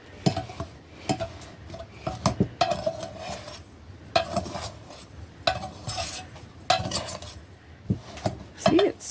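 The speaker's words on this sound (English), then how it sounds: "I like to tip the bowl and sort of get it mixed up in there" Scone dough made with wheat berries being mixed in a tipped bowl, with repeated scraping and clinking of a utensil against the bowl in uneven bursts, close and moderately loud, with occasional brief background talk.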